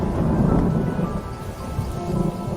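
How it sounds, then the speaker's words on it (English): A radio drama thunderstorm: deep rolling thunder rumbles under steady, close rain, loud and unbroken for a few seconds. "Here looks like another storm coming."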